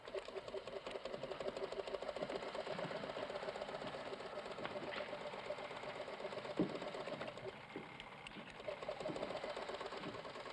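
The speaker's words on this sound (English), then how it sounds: "Start sewing these on the left side." Sewing machine running in a tailor shop, a fast steady mechanical whir and needle clatter held continuously at moderate volume, with a few faint knocks and bumps in the room behind it.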